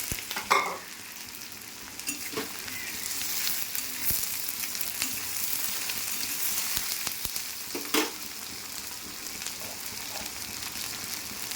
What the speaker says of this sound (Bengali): হালকা হালকা ভেজে নিলাম